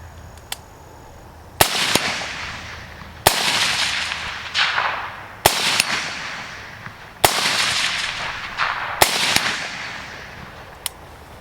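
Suppressed shots from a homestead rifle with a suppressor cover, six sharp reports spaced one to two seconds apart, each with a short fading tail, loud and close with no talking.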